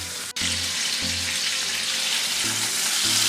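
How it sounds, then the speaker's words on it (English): Meatballs searing in a pan make a loud, continuous hiss and crackle close by, with a low intermittent hum underneath and one sharp click early on. "Let them sear for about 3 minutes,"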